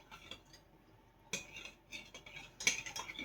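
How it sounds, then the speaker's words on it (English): A metal spoon clinks against the inside of a cup while stirring a hot, microwaved sugar mixture for canning pineapple, giving a few faint scattered taps and scrapes with short pauses between them. "I'm just going to stir it up until it's pretty much completely dissolved here"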